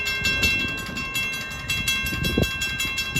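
Cannonball train number 16, a twelve-car train led by engine 502, rumbles past a Long Island Rail Road location in a steady, continuous rolling roar with no talk.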